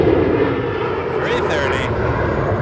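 A Star Alliance Airbus A330 airliner rolls past at Toronto Pearson airport, a steady, loud engine roar filling the whole stretch with a brief higher whine midway, while a voice talks over it.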